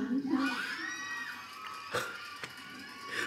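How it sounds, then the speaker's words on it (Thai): Fans shriek and cheer in a played announcement clip for an 8th single senbatsu, high excited screams rising near and then fading, with a couple of sharp bursts. "เพิ่งได้ยินเสียงกรี๊ดในคลิปตอนนี้"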